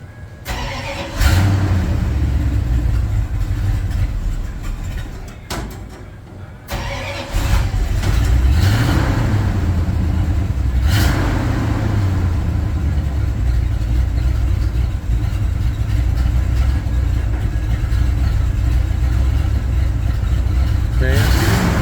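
A 1967 Bombardier wide gauge snowmobile engine runs loud and steady close by, settling into a continuous idle after a short dip and briefly revving, with a voice speaking over it at times.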